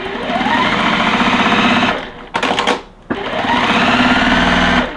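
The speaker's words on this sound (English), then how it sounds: "we're gonna sew an F on either side, right and left side of the G" A sewing machine stitches quilt block pieces in a fast, even whir that runs loud and close, breaks off briefly for a couple of clunks, then starts up again.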